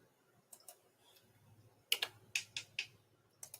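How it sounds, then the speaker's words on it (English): Typing on a keyboard during an online chat about cruise savings, with short clusters of crisp key clicks heard close and alone, separated by quiet pauses. "I'm just typing."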